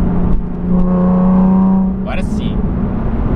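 A car fitted with a new exhaust revs briefly, giving a rising engine drone for about a second before it drops away. Someone talks over it throughout.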